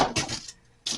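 A wooden scraper rasps against built-up ice inside a mini fridge freezer, with two harsh close scraping strokes separated by a brief pause.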